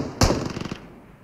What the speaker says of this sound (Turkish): Bomba geldi bu arada.